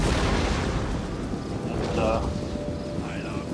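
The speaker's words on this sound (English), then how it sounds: "I can hit them with all of my artillery" Artillery in a siege-versus-infantry strategy game: a dense, continuous roar of booming fire and rumbling blasts with no breaks, loud throughout, with faint higher tones rising briefly over the din.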